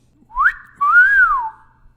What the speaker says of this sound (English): I heard the crude whistle from behind us.